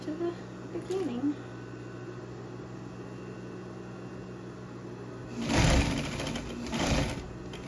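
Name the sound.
sewing machine stitching Christmas stockings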